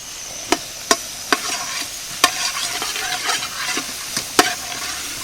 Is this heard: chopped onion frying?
yes